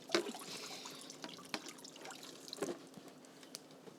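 Water drips and trickles off a naturally dyed fabric table runner as it is lifted from a dye bath, with scattered drops and a soft patter.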